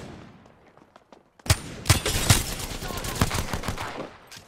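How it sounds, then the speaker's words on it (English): Enemy gunfire in Apex Legends: after a quiet start, rapid loud volleys of automatic shots crackle and thud close by, continuing in uneven bursts until fading near the end. "They're shooting at me."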